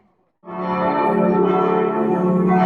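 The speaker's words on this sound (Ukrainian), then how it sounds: "Ось так звучить дзвін церкви, друзі." A large church bell in Tübingen, Germany strikes once after a brief silence, its rich ringing tone sustained and loud, humming on without fading much.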